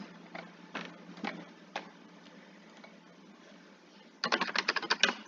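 A computer keyboard is typed on quietly: a few scattered keystrokes at first, then a quick burst of several crisp clicks near the end, nearby and with no voice.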